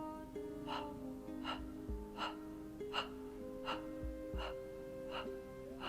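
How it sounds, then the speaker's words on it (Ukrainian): After a deep breath in through the nose, a series of about eight short, rhythmic exhales through a rounded mouth puff out evenly, quiet and close, over a soft background tone. "будемо робити глибокий вдих через ніс і 8 видихів через круглий рот"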